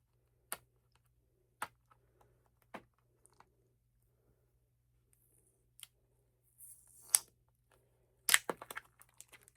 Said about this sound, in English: let me see if I can get tape off of it.